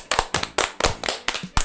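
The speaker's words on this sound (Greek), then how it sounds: "ένα χειροκρότημα όλοι" A few sparse, sharp hand claps, roughly seven in under two seconds, close and uneven, as if from a small group or a single person, with no voices.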